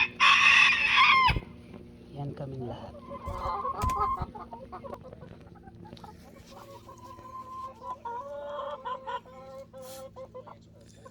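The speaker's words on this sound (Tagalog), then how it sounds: "Isa lang ang rooster dito. Lahat mga inahin." A rooster crows loudly at the start, then several hens cluck and chatter nearby on a farm in Washington, with a short spoken phrase partway through.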